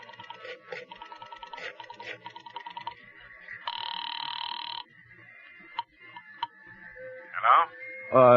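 A telephone rings in an old-time radio suspense drama, a steady electric bell ringing for about a second amid other sound effects, with speech and a few sharp clicks around it.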